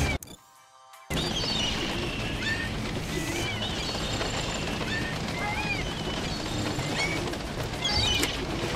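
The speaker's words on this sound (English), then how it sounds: "I guess that's why they call them homing pigeons." Flock of pigeons in the video game Postal 4 flapping off and cooing, a busy wash of wingbeats with scattered coos and chirps after a brief quiet opening.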